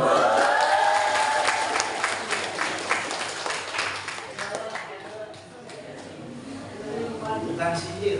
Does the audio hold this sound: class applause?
yes